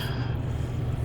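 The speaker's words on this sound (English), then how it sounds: "Apologize for the noise. It's my computer" A running computer gives off a continuous low hum and whir, steady and fairly quiet, with no talking over it.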